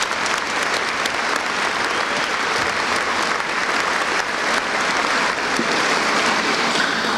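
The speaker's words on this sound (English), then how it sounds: "At this time, I'd like to give them all another round of applause for a great job." Sustained, loud applause from a high school graduation audience in an auditorium, a thick wash of clapping hands continuing evenly from start to finish.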